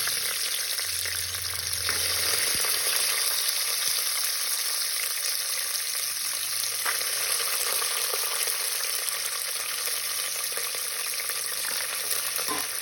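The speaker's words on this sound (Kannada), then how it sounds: "ಸೊ ಬಟಾಣಿ ಒಂದು ಸ್ವಲ್ಪ ಎಣ್ಣೆ ಫ್ರೈ ಆಗೋದು" Green peas fry in a little oil, giving a steady, even sizzle throughout, with a brief low hum near the start and no speech.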